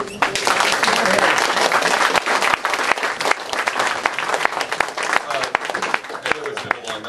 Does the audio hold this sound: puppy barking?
no